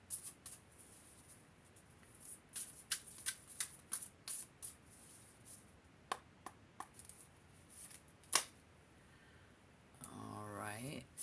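Tarot cards being shuffled and pulled, a run of soft, quick flicks and snaps through the first eight seconds with a sharper slap near the end, followed by a brief voice at the close.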